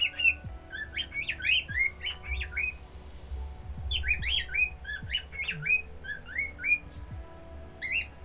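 A pet bird chirps and squawks close by indoors in repeated bursts of sharp whistled calls, separated by short pauses, over a low background hum.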